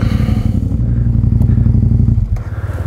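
An 1190 motorcycle engine with no ignition runs with a loud, close idle rumble, then cuts out abruptly near the end, leaving a faint settling clatter.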